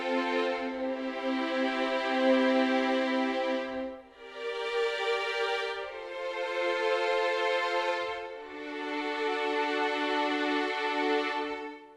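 Hans Zimmer Strings violins in a close mix with no reverb play three long sustained bowed phrases, dry and upfront, each swelling and fading, with brief gaps between them.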